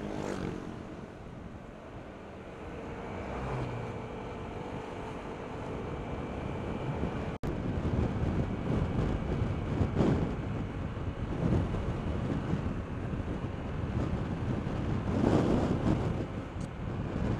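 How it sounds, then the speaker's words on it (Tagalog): Strong wind gusting on a secluded semi-raw beach in San Juan, Batangas, buffeting a parked motorbike: a steady, loud roar of wind noise across the microphone that swells in gusts, with one sharp knock partway through and no talk. "Lakas ng hangin"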